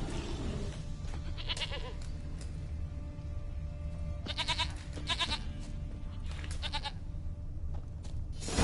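A goat in The Witcher 3 video game bleats several times in wavering cries over a steady ambient game background, moderately close, with no talk.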